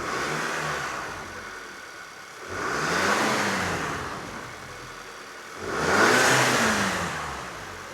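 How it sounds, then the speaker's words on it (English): A stock car engine with its factory intake revved three times in succession, each rise a smooth swelling roar that settles back to a steady idle between blips, heard up close with no talk. "So, stock rev time."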